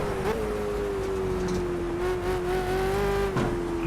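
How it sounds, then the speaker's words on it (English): Ford Falcon V8 Supercar in Project CARS at Le Circuit Bugatti, its engine droning steadily at high pitch, then dipping as it gears down under heavy braking near the end, with faint tyre noise. "Gear down, heavy braking."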